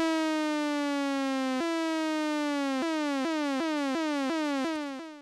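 A buzzy synthesizer sawtooth wave slides steadily downward in pitch, then snaps back up, repeating in a quickening cycle before fading out.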